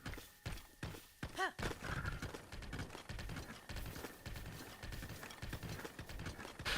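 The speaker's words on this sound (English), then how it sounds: "Did you guys know while you're on a horse in this game, it plays the original Zelda tune?" A horse clip-clops along in The Legend of Zelda video game with a short neigh near the start, and game music and mechanical effects play over a steady stream of hoofbeats.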